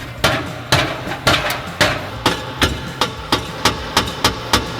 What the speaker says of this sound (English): we were trying to loosen it off with the hammer, but it just wasn't working